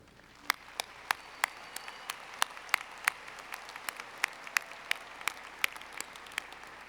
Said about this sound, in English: recognize these individuals by giving them a round of applause